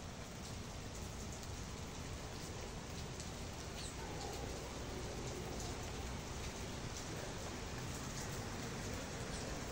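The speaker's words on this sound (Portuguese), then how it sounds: "Faz 2 dias que chove aqui" Steady rain falling on a surface in southern Brazil, a constant hiss of drops throughout, with a faint bird cooing in the background.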